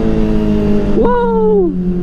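A Kawasaki ZX-4RR motorcycle with a changed front sprocket revs hard nearby, a loud high-pitched engine whine that climbs and then falls away as the rider shifts, with no talking.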